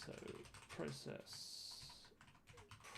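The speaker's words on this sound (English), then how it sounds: "you'll see me typing out all the headers I need" Rapid clicking keystrokes on a computer keyboard rattle in short bursts while someone talks over them, the typing close and fairly clear between and beneath his speech.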